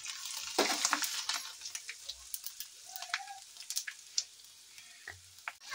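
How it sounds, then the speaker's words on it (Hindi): Whole spices and cumin sizzle in hot oil in a home kitchen pan, a quiet continuous frying hiss broken by scattered crackles and pops, with faint clinks of a utensil now and then. "तो दोस्तों यहाँ पे तेल गर्म हो चुका है और ये रहे मसाले।"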